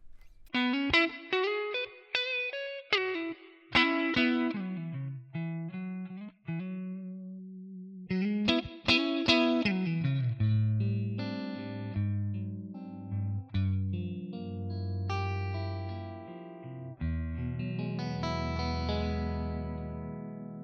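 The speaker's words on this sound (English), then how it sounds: "I would like to hear some reverb, so I put the plate in, create this preset" A Stratocaster-style electric guitar played through a Tonex One amp capture with plate reverb rings out in alone phrases, fast single-note runs followed by sustained chords, with lush reverb tails.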